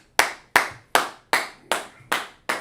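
Seven sharp, evenly spaced claps ring out close and loud in a lesson on Hebrew word characters, with no talking in between.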